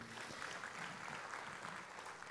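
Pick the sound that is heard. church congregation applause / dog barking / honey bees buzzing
church congregation applause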